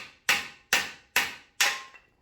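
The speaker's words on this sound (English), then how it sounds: "start banging the screwdriver through there" Four evenly spaced sharp metallic hammer strikes drive a screwdriver through the lip of a solid aluminum subframe riser bushing on a Nissan S13 240SX, each clanging hit ringing briefly before fading.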